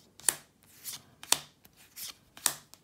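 Magic: The Gathering cards from a Zendikar Rising set booster pack are flicked through one by one, producing sharp, crisp snaps at an irregular rhythm, close and clear with no talking.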